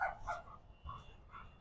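A dog barks and yelps in repeated short bursts from some distance away, faint and spaced about half a second apart outdoors.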